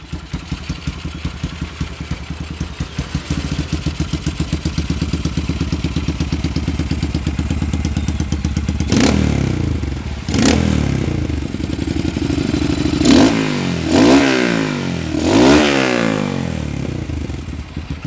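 A Honda CRF motorcycle engine with an aftermarket exhaust idles with a throaty, pulsing exhaust note, then gets several sharp throttle blips near the end; close by, no voices.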